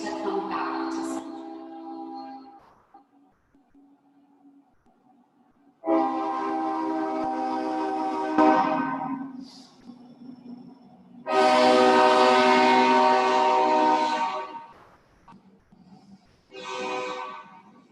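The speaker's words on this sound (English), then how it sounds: "Here comes the train, so let's just stay here if possible as the train passes." A train passes by, its horn sounding in long, loud, harmonic blasts that rise and fall over the rumble of the rail cars, with quiet gaps between the blasts.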